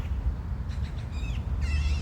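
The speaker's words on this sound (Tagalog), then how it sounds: "Nawili ako sa mahuni ng ibon." Outdoor bird calls, a few short high chirps then two brighter warbling phrases, heard over a steady low rumble of background noise with no talking.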